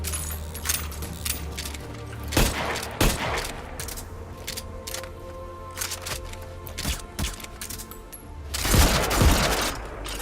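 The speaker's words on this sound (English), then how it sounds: "the shotgun was a little bit blaring in my ear" Shotgun blasts in a Metal Gear game, a few loud, sharp bursts scattered among clattering and jangling game noises, with the heaviest blast coming near the end.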